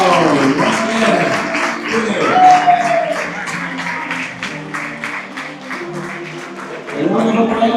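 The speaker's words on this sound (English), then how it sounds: "round of applause for the 3 teams, guys" An audience applauds three teams at the final elite round of an endurance athletics competition, steady dense clapping throughout with a voice speaking over it.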